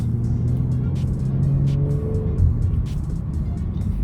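A 2022 Genesis G70 Launch Edition heard from inside the cabin on a highway pull, its engine droning steady and loud with a rising tone as it accelerates after a downshift, no talking.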